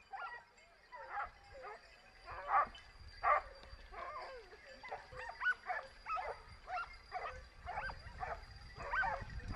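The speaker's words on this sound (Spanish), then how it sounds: "Hasta el momento estamos presenciando un trabajo muy eficiente por parte de los perros, que no dejan de mover y levantar caza" A pack of hunting dogs barks and yelps during a wild boar montería near Encinasola, Spain, with repeated overlapping barks at a moderate distance, fairly faint against outdoor background noise.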